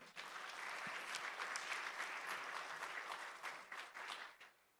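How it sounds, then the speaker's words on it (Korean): A church congregation bursts into warm, steady applause, many hands clapping together for about four seconds before tapering off. The clapping is heard alone, with no voices. "우리 하나님께 찬양과 영광의 박수 올려드릴까요?"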